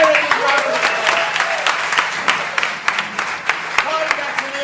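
A school audience gives class 6A a big round of applause, loud and continuous, with sharp claps popping out and voices mixed into the crowd noise.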